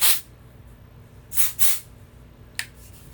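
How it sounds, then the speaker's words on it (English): Three short hissing bursts from an aerosol beach texture hair spray, close by, spaced apart, with a quick click near the end. "And then I would get this Beach texture spray."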